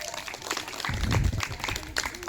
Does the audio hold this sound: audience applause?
yes